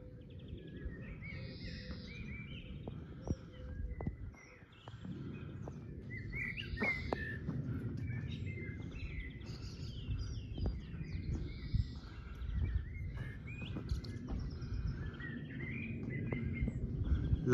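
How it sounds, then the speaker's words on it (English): Birds sing and chirp in the countryside near a village on a circular walk around Sutton. Their calls are bright and intermittent over a steady low background of wind and footsteps. "Love hearing the birds singing"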